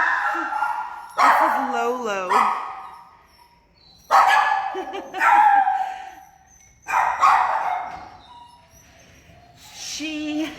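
A dog at an animal shelter barks and yips in several loud bursts, with a whimpering, whining tone between them, while a person speaks close by.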